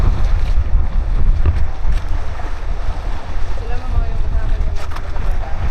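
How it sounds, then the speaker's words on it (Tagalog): Strong wind rushes past a paraw sailboat off Boracay, a constant loud buffeting roar with low rumble and microphone wind noise, water sloshing faintly beneath. "Sumalubong na sa atin yung hangin"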